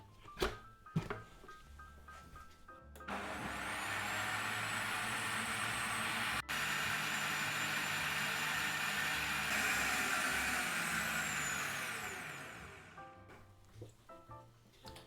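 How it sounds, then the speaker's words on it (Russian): A blender mixing a milkshake with milk whirs into action, running at a loud, steady high-pitched whine for about nine seconds before spinning down, with light clatter before and after. "Накрываем крышкой и запускаем блендер."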